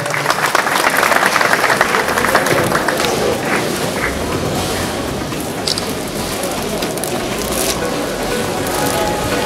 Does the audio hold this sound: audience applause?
yes